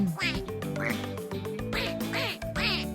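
A squeezable stress-relief toy duck quacks repeatedly in a quick run of nasal, squeaky honks, close and fairly loud.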